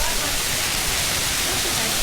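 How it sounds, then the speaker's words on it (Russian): A small waterfall spills in a river gorge, making a constant hissing rush of falling water that stays close and steady throughout, with no break in the wash. "Пока посмотрите, какой тут водопадик хороший."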